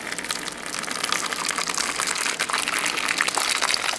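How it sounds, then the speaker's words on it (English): Hot water gushes steadily from a Zojirushi CV-DSC40 instant hot water boiler, a continuous bright splashing pour heard up close and alone for several seconds. "You have to unlock it and then dispense the water and it comes out."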